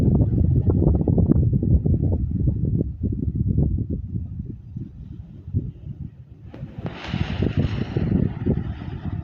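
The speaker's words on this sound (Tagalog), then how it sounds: "Tapos ang hangin pa." Gusty wind rumbles and buffets the microphone in uneven bursts, with a brief brighter rushing noise near the end.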